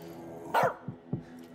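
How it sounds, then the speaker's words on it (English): Dog barking in the video game As Dusk Falls, one sharp yelp followed by two short low barks, moderately near in a quiet scene without talk. "keep that dog quiet"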